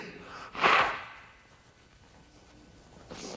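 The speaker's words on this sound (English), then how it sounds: "I wish I knew a way to blow my nose without getting it recorded" A man blows his nose once, a short, loud breathy burst near the microphone, followed by quiet and a fainter sniff at the end.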